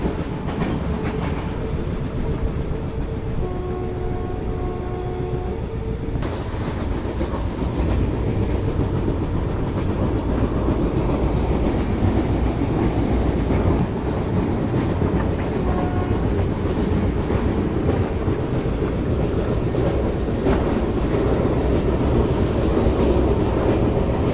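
Passenger train on the Katra to Haridwar route in India, running on rails with a steady loud rumble and clickety-clack plus wind buffeting the microphone, brief tonal whine early on.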